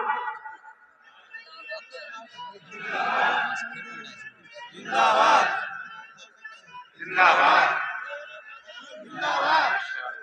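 Crowd at a religious speech shouting slogans in unison, several loud bursts of collective chanting rising and falling in turn with quieter gaps between them.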